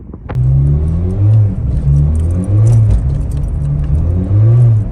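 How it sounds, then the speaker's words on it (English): A Ford Fiesta Mk6 ST engine revs up and down repeatedly during a gear change, the pitch bouncing between levels in a steady rhythm from a worn-out clutch, loud and close with a faint jingle at the start. "It started doing this weird revving thing where it bounces between revs."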